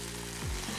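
Vegan egg substitute cooks in a pan with a close, steady hiss of frying and a faint low thud near the middle of the short stretch.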